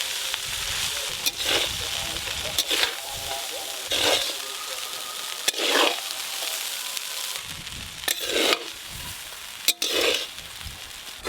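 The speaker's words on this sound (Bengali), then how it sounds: "এবার সব কিছু ভালো করে মিশিয়ে নেব একসঙ্গে" Fried rice with vegetables is stirred and tossed in a hot pan under a continuous sizzle, with repeated rhythmic scraping strokes of the spatula every second or two, and faint voices in the background.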